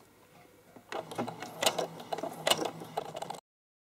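A home sewing machine runs in short bursts, stitching a few small stitches backward and then forward on a small fabric coin purse keychain, with a close, steady mechanical whir rising and falling in spurts.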